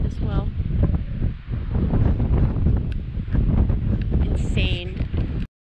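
Wind buffets the microphone on a hiking trail beside Minotaur Lake, a steady, loud rushing roar that lasts the whole stretch and swallows a faint voice underneath.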